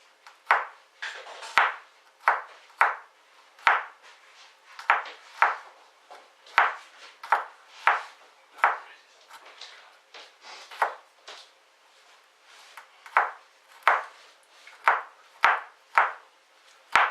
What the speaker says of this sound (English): we're going to chop up the onions now. Sorry, the garlic now. As small as we can.